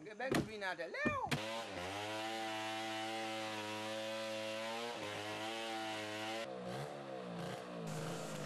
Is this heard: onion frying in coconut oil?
no